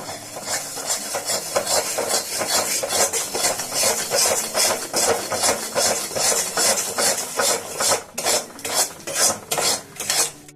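Gram flour for laddus is stirred in a pan with a spatula, making loud, close, rhythmic scraping strokes that rasp steadily and speed up toward the end.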